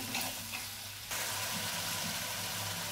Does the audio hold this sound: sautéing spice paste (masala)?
yes